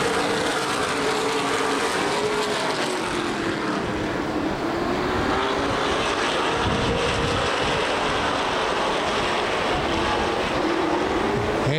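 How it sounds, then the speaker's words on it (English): ARCA/CRA Super Series race cars at Anderson Speedway on a green-flag restart: a continuous, fairly distant drone of several engines that swells and shifts in pitch slightly as the pack circulates, with no voices. "As we come back, green flag racing."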